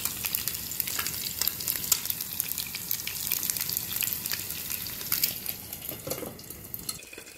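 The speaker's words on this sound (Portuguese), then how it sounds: "coloquei aqui colorau, chimichurri e cebola, tá? Vou deixar fritar aqui" Onion sizzles in hot oil with colorau and chimichurri, a steady dense crackling fry that stays loud and continuous, with faint scraping near the end.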